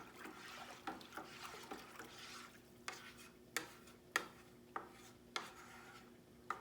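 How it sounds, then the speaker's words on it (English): A spoon stirs a few gallons of oak leaf water with oranges and lemons for wine, giving faint sloshing swirls punctuated by soft regular knocks against the container, close and quiet. "give it a good stir and mix it up"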